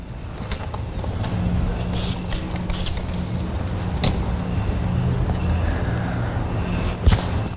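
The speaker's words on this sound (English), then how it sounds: "then I'll spray the pad with a little bit of pad conditioner" A spray bottle gives a few short hissing bursts of pad conditioner onto a polishing pad for black car paint, close, set against a steady low background rumble.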